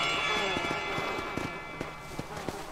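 Hooves of the horse Pestilence clip-clopping in Red Dead Redemption: Undead Nightmare, a steady run of sharp hoof strikes over a droning game soundscape with some speech-like sound underneath.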